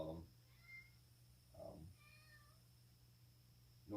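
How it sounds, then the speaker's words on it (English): A noisy domestic cat meows a few times from somewhere overhead in a garage where an engine and transmission are being installed, the short calls fairly faint over a steady background hum. "Noisy cat up there too, so I apologize for that."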